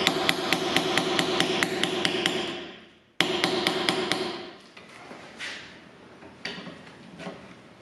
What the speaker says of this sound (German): Dazu werden wir mit Flachschraubendreher, Meißel oder ähnliches einmal den Deckel da runterklopfen.